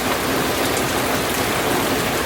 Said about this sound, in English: It is raining terribly.